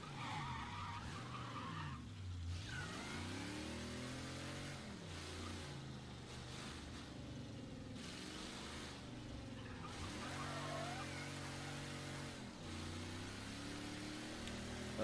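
A car in Mafia III drives with a droning engine whose pitch repeatedly rises and falls with gear changes and revving, joined by tire squeals and skidding, loud and continuous throughout.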